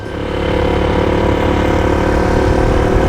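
A motorbike engine idles steadily and loudly nearby, an even rumbling drone that swells slightly at the start and then holds with no voices.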